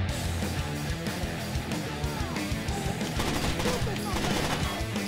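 Dense video-game gunfire with shotgun blasts, loud and continuous with overlapping shots, under excited talk.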